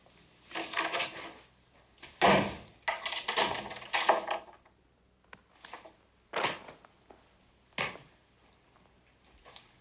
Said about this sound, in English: Come in and lock the door.